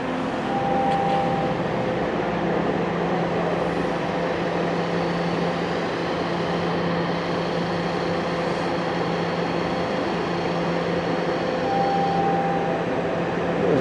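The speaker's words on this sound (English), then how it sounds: "Here's the station, and we got a train." A Toronto subway train rumbles steadily at Yonge Street station, a loud continuous low drone with faint high hum and whine, no voices over it.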